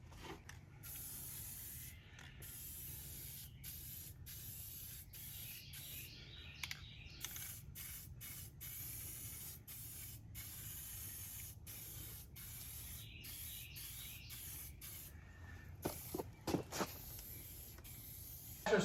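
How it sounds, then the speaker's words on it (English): A spray gun lays a blue top coat on a boat part in a welding shop, coming as repeated short hissing bursts separated by brief pauses, fairly faint, with occasional knocks and no talking. "now we're going to get a top coat of our blue on"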